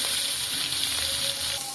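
Fish frying in a little oil on a flat griddle pan in a village kitchen, a continuous close, even sizzle with no voices.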